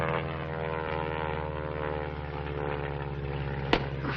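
Steady propeller aircraft engine drone at an airport, a continuous harmonic hum holding at even loudness throughout, with one brief sharp knock near the end.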